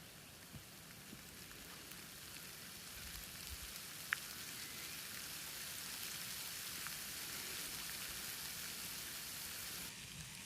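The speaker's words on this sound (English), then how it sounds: "Haven't even left the property yet and it's starting to rain again" Steady light rain falling outdoors on an Australian homestead on the final day of spring, a soft continuous hiss with no voices.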